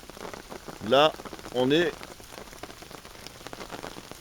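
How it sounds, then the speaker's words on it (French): Steady rain pattering on a camping tarp overhead at a bivouac, a constant close hiss with scattered drops, while two short bursts of speech rise above it. "On est à l'abri de la pluie."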